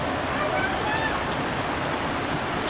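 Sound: heavy rain

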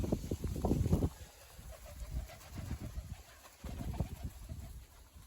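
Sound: Baku and Iranian pigeons cooing

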